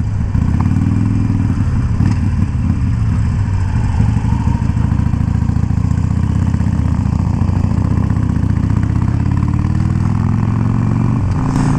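A Harley-Davidson Iron 883 motorcycle engine runs steadily and loudly close by, its deep rumble rising as it accelerates, with no talking.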